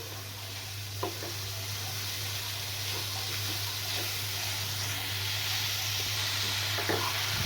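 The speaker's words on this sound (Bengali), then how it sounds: "আলুগুলো মশলার সাথে ভালো করে আমি মিক্স করে নিয়েছি।" Potatoes stirred and tossed with spices in a hot pan, a steady sizzle running throughout with a few soft scrapes of a spatula against the metal, close and continuous.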